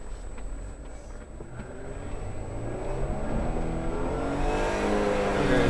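A Jeep engine on a Colorado mountain trail revs in first gear, rising steadily in pitch and loudness as it accelerates, close up and continuous, with rumbling low-end noise and no talk over it.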